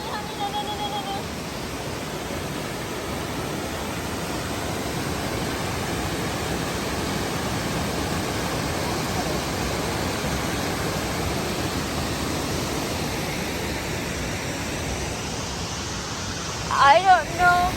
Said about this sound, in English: See all the waterfall